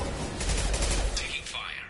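Dense, continuous bursts of gunfire in the Mass Effect video game, loud and close, with a voice faintly heard under the shooting.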